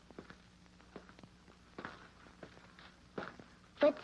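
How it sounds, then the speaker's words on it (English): Footsteps inside a building fall in an uneven series of soft, close taps on a hard floor in a quiet room, with the last step landing a little heavier. "Footsteps inside. Sound different."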